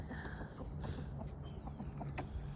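Barred Rock and Colombian Wyandotte chickens cluck in soft, scattered calls over a steady background, with no one speaking.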